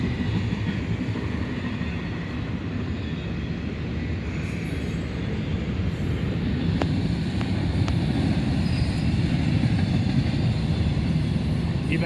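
A BNSF intermodal freight train carrying containers, including 53-foot boxes, rolls past at Oak Harbor with a loud, continuous rumble and clatter of wheels throughout, a couple of sharp metallic clanks midway, no voices.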